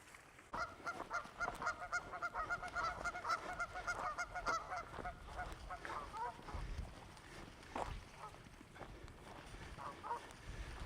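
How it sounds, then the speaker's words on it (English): Angry geese honk and fight at Eagles Crossing in Missouri, a dense run of harsh, repeated honks at moderate distance with wind noise and scattered knocks around them. "Got some very angry geese fighting each other."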